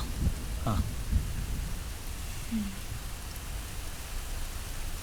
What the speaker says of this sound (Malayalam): ഇടിയും മിന്നലൊക്കെ ഭയമാണോ